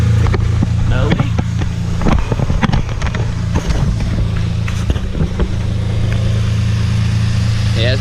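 A Mitsubishi Eclipse engine runs with a steady low exhaust drone, close to the tailpipe, with wind buffeting the microphone and a few brief revs or knocks in the first few seconds.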